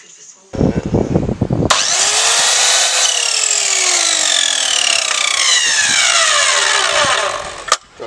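A power tool bites into reclaimed timber during a small table build. A few rough knocks come first, then a loud, sustained whining cut that runs for several seconds before spinning down abruptly near the end.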